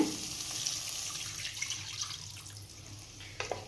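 Rinse water from a mixer jar poured into a pan of roasting masala for Chettinad paneer gravy, a soft continuous splashing pour with a few faint drips and clinks in a quiet kitchen.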